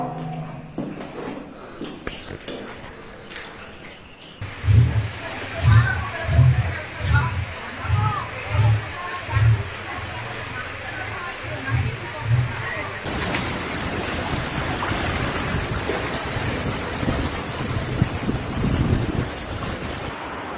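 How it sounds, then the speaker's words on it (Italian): Floodwater runs like a swollen river down a narrow street in Venice at night, a steady rushing wash with gusts of wind noise on the microphone and a voice talking over it. "Qua la stradina nostra c'è un piccolo fiume in piena che scorre"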